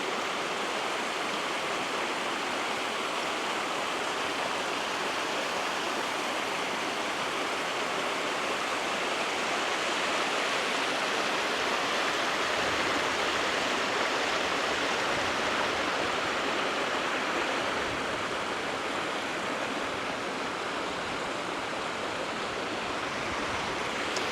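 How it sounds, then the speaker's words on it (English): Steady rushing water flows continuously in an Appalachian mountain woodland garden in North Carolina, a broad even splashing hiss with no talking, like a lively stream or small cascade nearby. "I don't know if you can hear the water as well as I can"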